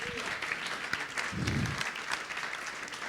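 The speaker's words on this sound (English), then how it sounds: "Let's give them another round of applause." A crowd claps steadily throughout, a dense patter of applause from a sizable audience with a brief murmur underneath.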